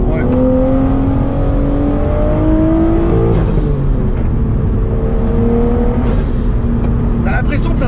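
A Nissan R33 Skyline GTS-t engine pulls hard through long gears, its loud rising drone climbing in pitch, dropping at a shift, then climbing again, heard from inside the car over road roar.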